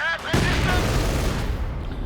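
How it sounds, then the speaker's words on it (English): Mortar rounds and MG42 machine-gun fire from the Company of Heroes 2 battle game make a dense, rumbling barrage of rapid shots and booms. A voice is heard briefly just before the gunfire starts. "More mortar rounds going down. The MG42 holding out a bit of the Russian infantry"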